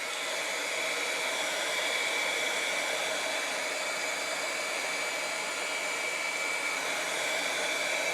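A hair dryer blows steadily on a wet vine dabber cap, a loud, continuous whooshing roar with a faint high whine that holds without a break from start to finish.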